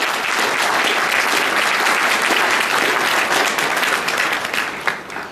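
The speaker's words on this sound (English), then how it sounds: "let's give them a round of applause" Loud, sustained applause fills a room at the Mississippi State University Tower Guard induction ceremony, a thick, even crowd of clappers that tapers off in the final second.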